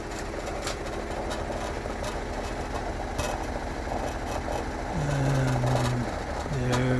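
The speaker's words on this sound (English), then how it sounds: "The other tumbler you see is a Highland Park model that uses a DC motor and has a DC drive" A Highland Park rotary rock tumbler with a DC motor and DC drive, set to 45 RPM, runs as a steady low hum and rumble with faint rhythmic clicks. A tonal whine rises toward the end.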